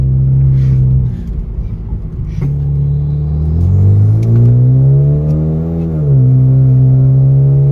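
A 2013 Hyundai Genesis Coupe 2.0L Turbo engine rumbles and revs steadily up close, with rough jolting knocks through the first couple of seconds as it rides over bumps on worn-out shocks.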